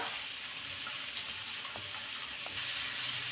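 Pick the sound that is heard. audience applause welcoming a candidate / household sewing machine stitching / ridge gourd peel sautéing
ridge gourd peel sautéing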